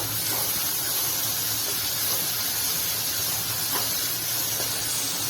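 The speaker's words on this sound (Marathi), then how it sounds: "कांदा चांगला परतवून घ्यायचा।" Chopped onion sautéing in a pan for Maharashtrian pithla, with a steady broadband sizzle and hiss running evenly throughout, close and moderately loud, no talking.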